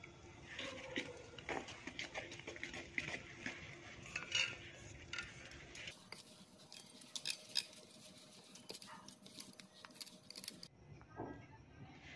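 Eggless plum cake batter being stirred with sifted spices and fruit powder in a bowl, a steady clatter of spoon against the dish with scraping and light tapping, close and moderately loud, no talking.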